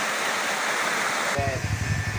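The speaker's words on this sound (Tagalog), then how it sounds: "ito po yung nasa labas niya, ilog. Talagang malakas po talagang tubig dito." Strong river flowing just outside a spring resort in an upland area, a loud steady rush of water filling the first half before a voice takes over with the water still under it.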